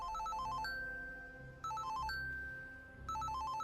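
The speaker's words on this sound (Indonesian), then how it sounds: "Kate mendapatkan telepon dari seorang dokter dari Institut Saarne" A telephone rings in the film Orphan (2009): an electronic ringtone with a repeating melodic pattern sounds three times, each burst ending in a sustained tone, quiet and without talk.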